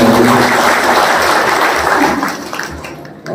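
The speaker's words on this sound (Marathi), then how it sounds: "त्यांचा एकदा आपण सगळ्यांनी टाळ्या वाजवून आभार मानला" An audience claps at a political speech about a cotton textile industry in Achalpur, a dense burst of applause that starts loud and gradually thins and fades toward the end.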